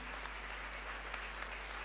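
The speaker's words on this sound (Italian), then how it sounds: "un piccolo applausetto non fa male" Steady audience applause at an award ceremony, a dense, even patter of many hands clapping throughout, moderately distant and alone with no voices over it.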